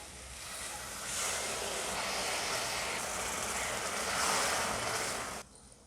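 A steady rushing pour of water into a cooking pan, loud and continuous for several seconds, then it stops abruptly.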